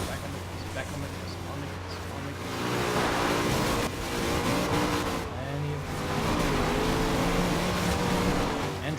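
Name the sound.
car accelerating in the video game Forza Horizon 2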